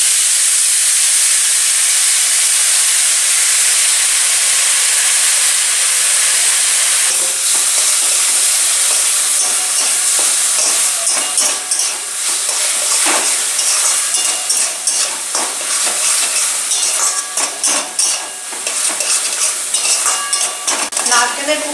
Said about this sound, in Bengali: এবার আমি কড়াই দিয়ে এটা পাক করে নেব।